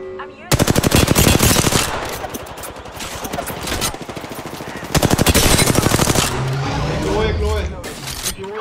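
Rapid automatic gunfire in Apex Legends, loud sustained bursts of fast rattling shots separated by a short pause, with someone talking over the firing.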